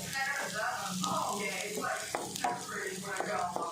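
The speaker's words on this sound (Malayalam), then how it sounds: "ഇതിലേക്ക് കുറച്ച് വേപ്പില ഇട്ട് കൊടുക്കുന്നുണ്ട് ഒന്ന് കളറ് മാറണ വരെ നമുക്കൊന്ന് വയറ്റി കൊടുക്കാം" Curry leaves sautéing in a pan with onion give a steady, close sizzle that carries through the whole stretch, with a few small stirring clicks over it.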